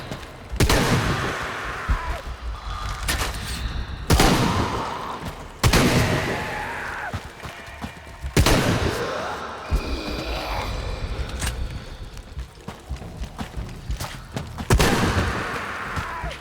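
Gunfire in Shadow of the Tomb Raider, with several loud, sharp shots and bursts spaced irregularly through a rumbling game soundscape, each crack followed by a trailing echo.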